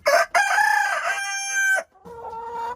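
A rooster crows loudly and close by, a long ringing cock-a-doodle-doo followed by a shorter second call, heard alone without talk.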